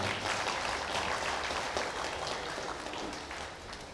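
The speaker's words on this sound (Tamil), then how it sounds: "நாம் பலத்த கைத்தட்டல் கொடுப்போம்" A crowd claps steadily at a Tamil event honouring athletes and silambam students. The applause is dense, even and moderately distant throughout.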